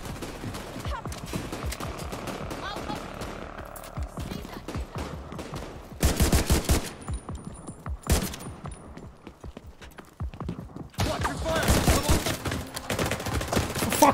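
Automatic gunfire in the video game Tom Clancy's The Division 2, scattered shots at first building into loud sustained bursts in the second half, with sharp distinct reports between pauses.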